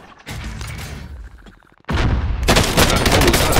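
Gunfire in the Call of Duty: Warzone video game: loud bursts of rapid shots, then a brief lull and another sustained, intense volley.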